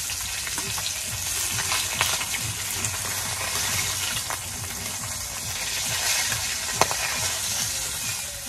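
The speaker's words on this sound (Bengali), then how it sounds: "মাছ ভাজা বসছি" Rupchanda (pomfret) fish frying in the fish's own oil in a pan, producing a steady, close, crackling sizzle with occasional sharper pops. No one speaks.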